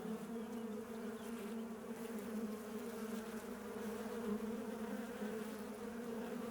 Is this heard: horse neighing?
no